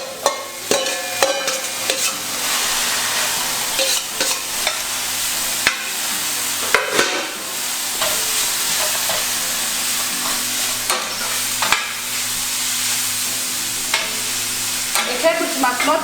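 Onions and cabbage stir-frying in a pan: a loud, continuous close sizzle with repeated scraping and clacking of a utensil stirring the vegetables throughout.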